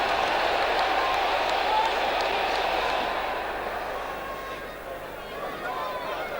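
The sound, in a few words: football crowd at Middlesbrough match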